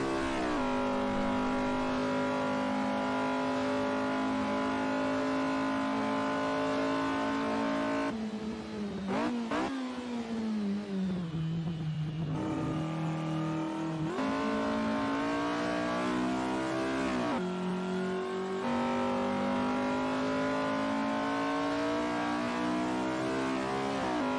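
Front-wheel-drive mod car driving in Assetto Corsa, its engine holding a loud steady drone with several rising revs and gear-shift dips, continuous and close with no talk.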